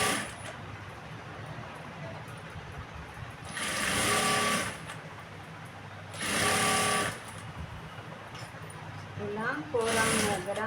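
A sewing machine runs in three short bursts while a blouse is stitched, the whirring stitching separated by quieter pauses with faint handling noises and someone talking lightly in the background.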